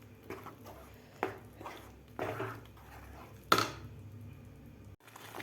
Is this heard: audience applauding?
no